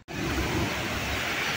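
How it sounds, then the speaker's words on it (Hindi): A waterfall swollen by monsoon rain, heavy water rushing and pouring in a dense, steady roar that starts abruptly and holds loud and constant. "आज देखो वहाँ कितना मूसलाधार पानी आ रहा है"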